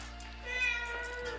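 A domestic cat gives a drawn-out meow at close range, indoors in the morning, a single plaintive call lasting about a second, with a faint low hum beneath.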